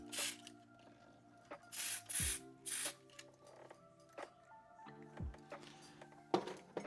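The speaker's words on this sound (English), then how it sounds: "Let me squirt a little bit of contact cleaner down into amongst all of that." Contact cleaner sprays into the belt mechanism of a Sharp VZ-3500 record player in several short, hissing bursts, close and fairly quiet, set among faint mechanical clicks and small handling noises.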